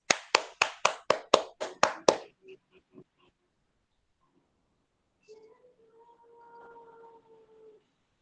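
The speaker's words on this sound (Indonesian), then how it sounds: "Untuk yang lain silakan berikan aplaus untuk kelompok 1." Classroom applause for a presenting student group during an Indonesian peer-teaching session: a short run of about eight sharp, evenly spaced claps, a few scattered taps trailing off, then quiet with a faint voice-like tone near the end.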